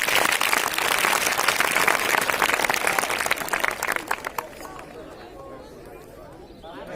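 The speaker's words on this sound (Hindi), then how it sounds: "एक बार जोरदार तालियां हो जाए।" Loud, dense applause from a crowd at a college prize distribution ceremony fills the first few seconds, then tapers off as cheers and voices linger in the background.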